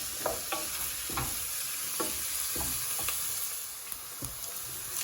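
Onions for mutton curry sauté in a pan with a constant, loud hiss of frying oil, broken by soft periodic strokes of a spoon stirring through them, close and without any voices.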